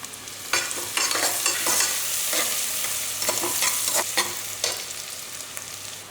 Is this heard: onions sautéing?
yes